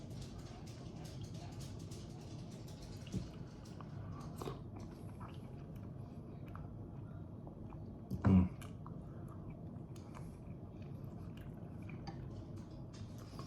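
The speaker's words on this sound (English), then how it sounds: "we're gonna go ahead and try this delicious navy bean soup" Someone eats navy bean soup, with soft spoon clinks against a bowl and quiet chewing and slurping close by, plus one louder clatter partway through.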